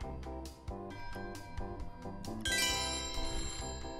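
Telephone ringing in the video game Christmas Shopper Simulator, a steady electronic ringtone with repeating chimed pulses that carries on loud and unbroken for the whole span, with no voices over it.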